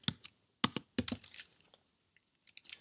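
Clicks on a computer keyboard while entering JavaScript code: a few quick bursts of keystrokes, then scattered single taps, close and fairly quiet with pauses between.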